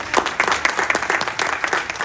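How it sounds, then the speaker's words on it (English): Steady applause from a group, many hands clapping together for about two seconds with no talking over it. "Give you guys a hand clap for being just women in this room."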